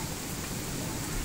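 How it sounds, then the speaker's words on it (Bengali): Heavy rain pours down in Muladi, Barisal, a brief steady hiss of dense rainfall with no break and no other sounds. "অনেক বৃষ্টি হচ্ছে আজকে"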